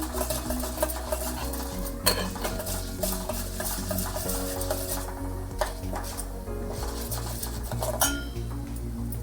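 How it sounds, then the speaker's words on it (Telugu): Something fried in a pan until lightly brown while making a flattened-rice payasam: steady clinks and scrapes of a spatula against the metal pan over a faint sizzle, with frequent rhythmic stirring strokes. "ఇది కొంచెం బ్రౌన్ కలర్ వచ్చే వరకు ఇలా వేయించుకుందాం."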